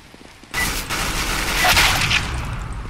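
A sudden burst of rapid gunfire in the video game CS:GO erupts and continues as a dense, harsh volley of shots, loud and close.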